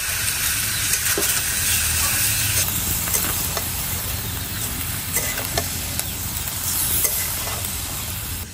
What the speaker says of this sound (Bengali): মাংসটা হালকা একটু ভাজা হয়ে গেছে পেঁয়াজের সাথে।